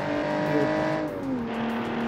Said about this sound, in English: The noise of the engine is an absolute beauty.